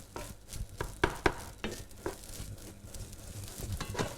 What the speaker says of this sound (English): Just give that a good stir. Make sure everything is mixed in evenly.